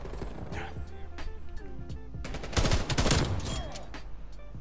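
An AUG rifle fires in Call of Duty Black Ops Cold War, with short bursts of rapid shots that build into a loud, sustained volley midway through.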